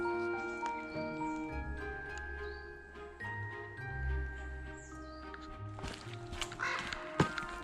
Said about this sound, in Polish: Słychać kruki.